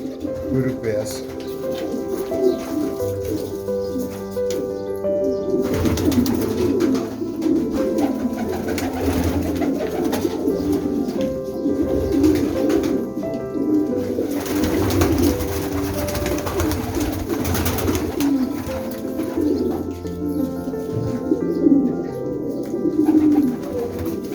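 Young pigeons, homing and Bursa tumbler breeds, coo softly and steadily throughout a large loft in Edirne, Uzunköprü, with someone talking over the birds for much of the time.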